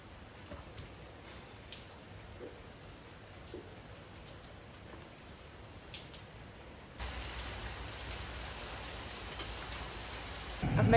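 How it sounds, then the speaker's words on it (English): Light rain falls steadily, a faint hiss with scattered soft drops ticking against a surface, thickening into a denser, louder patter toward the end. "it's just raining"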